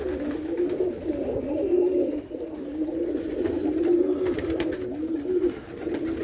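Pigeons cooing steadily inside a pigeon loft, a continuous layered murmur of low, throaty coos from several birds close by, with faint rustling and no talk.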